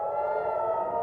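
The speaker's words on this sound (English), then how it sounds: "As sirens wailed, missiles arced over the Lebanon-Israeli border" Air raid sirens wail over the Lebanon-Israel border in a steady, sustained tone that holds loud and even throughout, with no voices.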